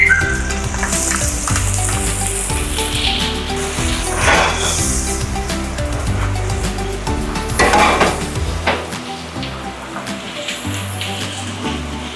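Garlic and onion sautéing in a pan for beef caldereta, a loud, continuous sizzle and crackle with occasional scraping stirs over a low hum.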